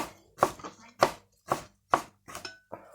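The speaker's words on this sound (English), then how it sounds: "And then just shred that up nice and fine." A knife chops finely through lettuce on a board in six crisp, evenly spaced strikes, close and distinct, with a short pause between each cut.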